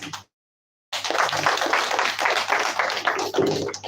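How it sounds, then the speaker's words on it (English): Audience applause after a talk on leadership, a steady wash of clapping that starts abruptly after a short silence and carries on loud and dense without speech. "Please, once again, a round of applause."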